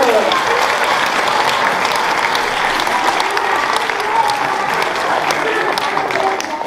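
An audience applauds the Savoir Lire literacy association at its twentieth anniversary event, a loud, sustained crowd clapping that stays full and steady, with faint voices murmuring underneath.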